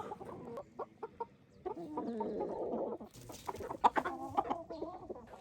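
Inside a henhouse, a hen gives a string of short, close clucks broken by brief pauses, with no talking.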